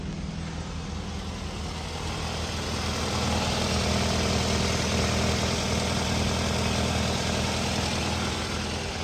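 A used car imported from Germany, with its check-engine light on, idles steadily, close up and continuous, with a broad low rumble and no voices.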